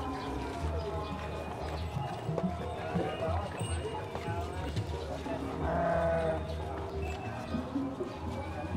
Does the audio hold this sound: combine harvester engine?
no